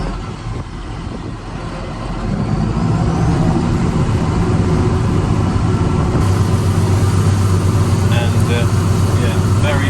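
A tractor mows with its PTO switched on after a lunch stop, its engine a loud, steady low drone that swells after about two seconds and holds, with light tonal whine on top.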